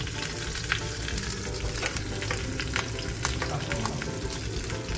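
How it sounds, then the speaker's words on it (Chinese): Fish frying in a small pan with soy sauce and ginger, the pieces going into a fish soup as they finish; a steady, dense sizzle continues throughout with small crackles and stirring scrapes, close and alone. "因为啲煲太细，所以只能够一路煎一路将啲鱼抌落煲汤啦"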